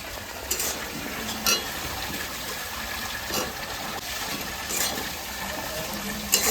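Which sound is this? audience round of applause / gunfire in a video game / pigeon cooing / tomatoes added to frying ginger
tomatoes added to frying ginger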